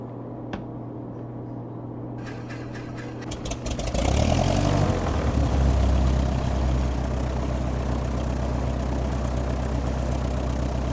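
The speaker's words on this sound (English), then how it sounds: "See if we can get an engine started up here." A Piper PA-28 single-engine piston aircraft cranks over with a few uneven turns, catches around the fourth second, and settles into a loud, steady low idle that runs on close by.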